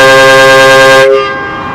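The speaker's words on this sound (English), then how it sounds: "We'll hit the horn" A homemade train horn gun, an impact air horn, gives one loud, sustained, blaring chord that cuts off after about a second and leaves a ringing echo. Very close, with no talk.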